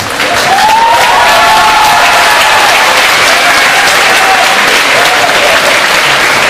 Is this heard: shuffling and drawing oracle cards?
no